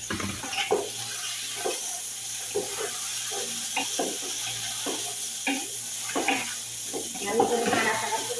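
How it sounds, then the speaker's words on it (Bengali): Potatoes tipped into a hot pan and stirred, a steady loud sizzle with repeated scraping bursts of stirring. "দেখেন আলু ঢেলে দেবেন এখানে।"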